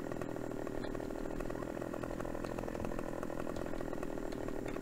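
A chainsaw cuts down trees in Farming Simulator 17 on the Estancia Lapacho map, its engine buzzing loud and steady close by for the whole stretch, with no voices.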